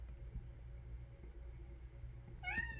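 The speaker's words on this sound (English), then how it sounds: "And that is my cat in the background craving attention." A domestic cat meows once, loud and close, for attention near the end, after a stretch of low, quiet indoor room noise. No one speaks.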